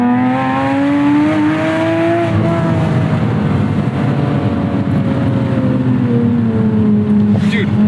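A Porsche Spyder engine howls loudly while accelerating, a strong tonal wail rising in pitch, easing briefly, then climbing again over the steady roar of the car in motion.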